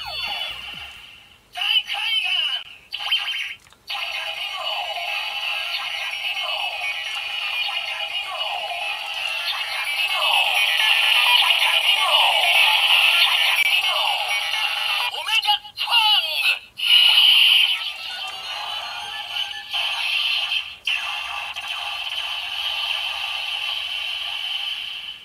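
A Kamen Rider Ghost Cobra Keitai toy gadget's electronic finishing-move voice and synthesized effects play in a bright, tinny burst, with sweeping tones and chiming notes, some brief clicks and gaps in between.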